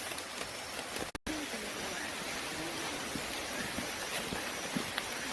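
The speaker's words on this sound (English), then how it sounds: "Sound of the rain in the jungle." Steady rain pouring in the Borneo rainforest near a lake eco camp on the Kinabatangan River, a dense continuous hiss with scattered drip taps and a brief dropout, moderately quiet and without talk.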